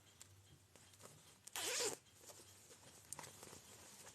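The zipper on the pocket of a crocheted granny square tote bag, lined with denim, is pulled once in a quick, close, bright rasp lasting about half a second within a quiet room, with faint handling sounds before and after.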